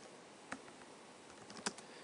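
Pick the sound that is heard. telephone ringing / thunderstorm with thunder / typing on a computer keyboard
typing on a computer keyboard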